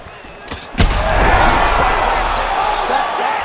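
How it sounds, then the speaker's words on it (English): Crowd roar in the UFC 5 video game after a knockout ending a fight, opening with a sharp thud-like impact and swelling into sustained loud cheering that stays steady to the end. "crowd loving it"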